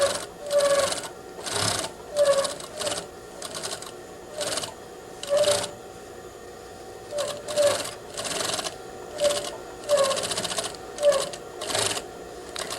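A sewing machine stitches tape onto the seam allowance while joining a waistband to a skirt, running in roughly ten short, even bursts separated by brief pauses, fairly quiet and close.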